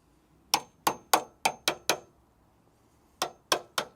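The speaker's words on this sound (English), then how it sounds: "probably get the hammer and chisel in there, take that off without having to saw that separate piece off." Hammer and chisel striking a metal piece on a motorcycle restoration, nine sharp ringing clangs in two bursts, six quick blows then three more after a pause, close and clear.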